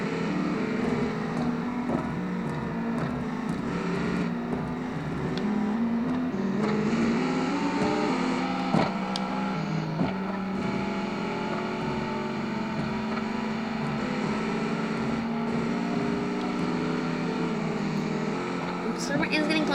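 Racing cars' engines drone and shift pitch continuously in a racing video game, a steady layered whine running under a commentator's talk.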